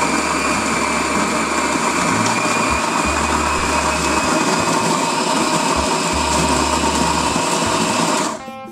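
Kitfort KT-744 conical burr coffee grinder running on its coarsest setting, one loud continuous whirring drone with grinding texture, close, stopping just before the end.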